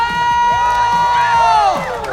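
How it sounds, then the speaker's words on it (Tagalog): A live audience at a bingo game show cheers and shouts with excited whoops, loud and close, while a high sustained tone sweeps through the noise and the crowd roar fills the whole short burst. "Magpalakpakan na may halong sigaw!"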